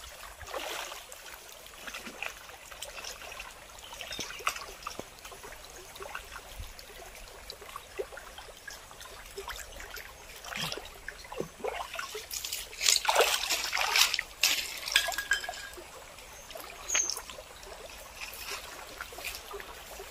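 Small stream water trickling and splashing as an offering is immersed in it, a soft continuous burble with a brief louder sploshing burst partway through, no talk.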